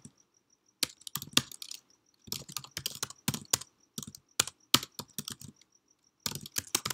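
Keys clack on a computer keyboard in short bursts of quick taps separated by brief pauses, close and quiet, with no talking.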